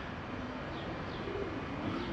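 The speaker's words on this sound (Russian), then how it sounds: "Голуби" Soft pigeon coos repeat faintly in a quiet residential courtyard in Krasnodar on a spring morning, over a steady outdoor background hum, with no talking.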